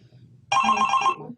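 A phone ringtone goes off during a live call-in stream, a steady tonal ring lasting under a second that starts abruptly after a quiet stretch with faint background.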